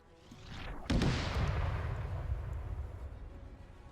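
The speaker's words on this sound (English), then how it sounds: "So now we have this One Alpha. anti-tank gun firing." An anti-tank gun fires in the Winter War battle game Raate Road, a single loud boom after a rising rumble, followed by a long rolling echo that slowly fades, with no voices.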